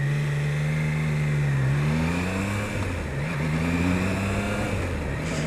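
A Triumph Trident 660 motorcycle engine hums steadily while ridden at about 50–60 mph in sixth gear, its pitch easing and rising slightly, with constant road and wind rush close at hand.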